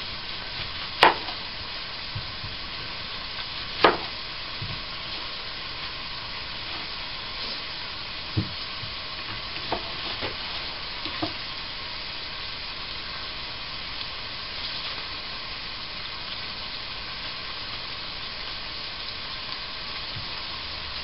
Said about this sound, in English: I'm actually cooking up all of my side pork because I'm going to be freezing the excess